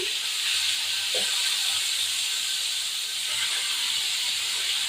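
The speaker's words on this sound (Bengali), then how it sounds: "এই যে চারাপোনা মাছ এখন এটা ভাজতে দেবো" Small carp pieces frying in hot oil give a steady, close sizzling hiss that runs throughout, with a few faint clinks in the background.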